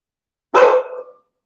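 A dog gives a single loud, close bark that stands alone against silence and cuts off after about half a second.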